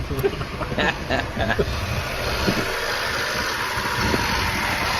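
A car engine runs steadily at a constant, fairly loud drone for the whole stretch, with people talking over it near the start.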